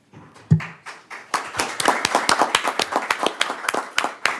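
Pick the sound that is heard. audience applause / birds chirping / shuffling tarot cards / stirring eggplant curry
audience applause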